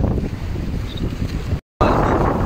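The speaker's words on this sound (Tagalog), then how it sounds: "Ayan, hangin, sobrang lakas." Strong wind roars steadily against a boat at sea amid big waves, loud and buffeting the microphone continuously, with a brief dropout near the end before it resumes.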